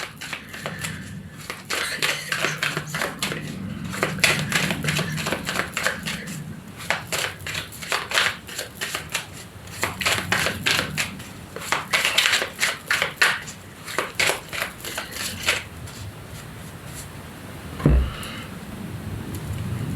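A deck of Lenormand oracle cards is shuffled and cut, giving bursts of quick, crisp riffling flutter close to the mic in several rapid runs, with a short thump near the end.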